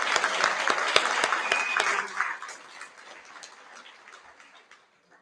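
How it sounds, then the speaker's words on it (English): Applause from a school prize-giving assembly audience honouring the top Year 12 academic students, a loud burst of clapping that thins out and fades over about five seconds. "Let's give them another round of applause"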